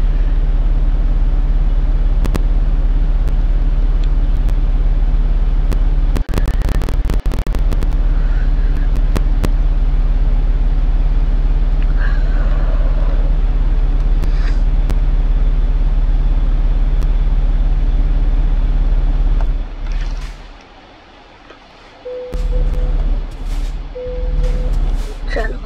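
A truck engine idles and warms up with the accelerator held, producing a loud, steady low drone that dips briefly near the end before returning.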